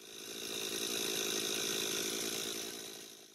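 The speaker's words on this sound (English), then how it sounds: "I've got the chainsaw warming up." A chainsaw engine warms up on a farm before tree cutting, running steadily with a buzzing, high-pitched drone, swelling in and fading slightly at the end, with no voices.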